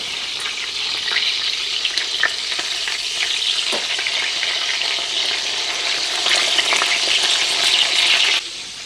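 A steak fries in a pan with a dense, steady sizzle and crackle that swells slightly toward the end and then drops off, close and continuous, with occasional faint pops and no talking.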